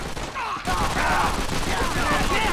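Enemy machine gun fire in Call of Duty: Finest Hour on PS2 during a WWII battle: a sudden, loud, sustained burst of rapid gunfire that starts abruptly and continues densely, with faint voices amid the combat.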